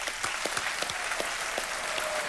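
A studio audience at the KBC quiz show breaks into dense, sustained applause, with sharp individual claps standing out over the steady roar.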